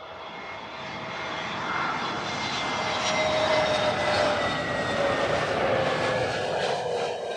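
A Boeing 787 Dreamliner jet arrives at Heathrow Airport, its engine roar swelling from a distant whine to a loud, broad rumble that holds steady as it passes, with no voices over it.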